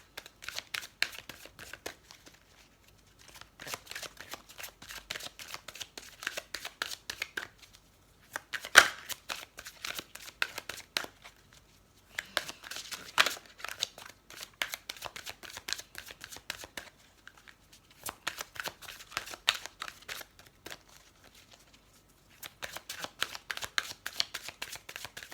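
Oracle cards for a fairy oracle reading are shuffled by hand in repeated bursts of crisp riffling and slapping, with brief pauses between rounds; close and fairly quiet, and no one talks.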